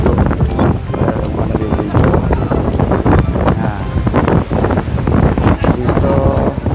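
Rough surf rolls in at the grotto on Boracay beach, a continuous roar of waves nearly buried under loud wind buffeting the microphone, with people faintly audible at times.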